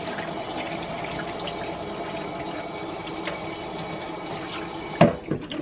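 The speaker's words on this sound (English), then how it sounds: "Let's make some soap water" Tap water runs steadily into a container to mix soapy water for cleaning a gun, a continuous close rush with a brief clatter near the end.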